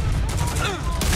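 Rapid gunfire bursts in a shooter video game, a dense fusillade of shots, loud and close, with a brief sharper blast near the end.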